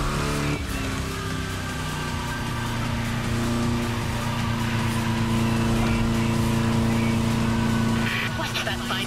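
A car engine revs and shifts gears while racing in The Crew Motorfest video game, a steady loud roar running throughout with a shift change near the start, under a voice.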